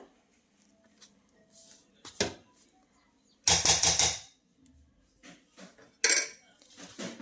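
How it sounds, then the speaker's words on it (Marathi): Cooked mixed vegetables for paratha dough are stirred with a spoon in a metal bowl, producing bursts of scraping and clinking with quiet gaps between them, close by and fairly loud. "चमच्याच्या साह्याने मिक्स करूया आपण हे"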